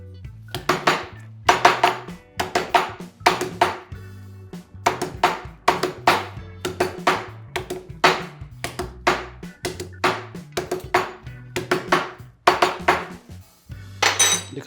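Garlic being chopped or pounded in a home kitchen, a steady run of sharp, loud knocks and clinks repeating about every second, with no talking.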